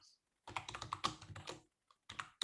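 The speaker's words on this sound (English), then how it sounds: "now if I come here and type in my email" Quick bursts of typing on a computer keyboard as an email address is entered, close and soft, with short pauses between runs of keystrokes.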